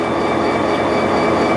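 Freight train of the Dakota, Minnesota and Eastern Railroad rolling on rails, a loud continuous rumble with metallic wheel noise and a faint high whine, close by and unbroken.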